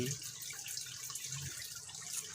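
Water pours steadily into a fish pond lined with used tarpaulin, a soft continuous splashing hiss, faint and even throughout with no voices.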